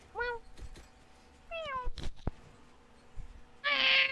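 A person imitates a cat's meow during a game session, producing short, high-pitched meowing calls in separate bursts, ending in a loud, squealing cry.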